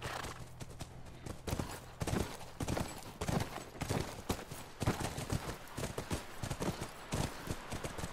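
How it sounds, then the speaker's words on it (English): Horse hooves clip-clop over the ground in The Last of Us Remastered, a steady, fairly quiet galloping patter under a dense ambient game soundscape. "That's our horse."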